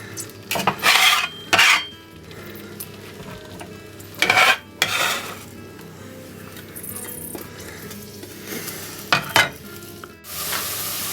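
Chopped onion goes into a hot pot for a thick vegetable soup, sizzling loudly with bursts of stirring and clattering utensil scrapes against the pot, close by and with no voices.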